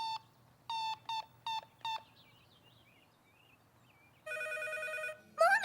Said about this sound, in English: I phoned you and the phone rang.